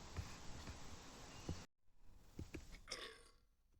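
A single belch from a man, heard as isolated vocal sounds with a brief silent gap partway, with no other talk around it.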